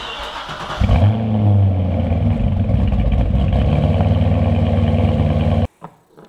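A car engine cranks and catches, runs roughly for about five seconds with a steady loud rumble, then abruptly loses fire and stalls, leaving a few faint clatters afterward.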